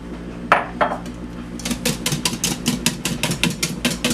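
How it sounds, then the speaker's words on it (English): A whisk beating Gosling's Black Rum into eggnog in a bowl, starting with two sharp clinks, then a quick steady run of rhythmic scraping strokes against the bowl. "we're just going to whisk that through"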